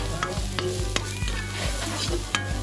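Onion and garlic sauté in a hot pan with a steady loud sizzle, while a utensil scrapes and stirs in repeated strokes, close up with no talking.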